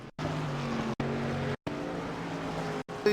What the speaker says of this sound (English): Oh, we blew the engine